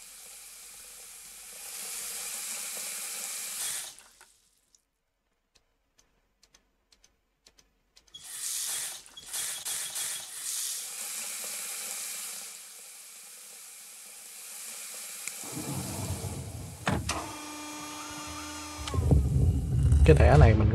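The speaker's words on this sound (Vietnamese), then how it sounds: "Phải xả nước xuống nè" Water gushes from taps in the Agent A puzzle video game: a steady hiss of running water stops, then returns with some clicks, a rising tone and swelling rumbles near the end.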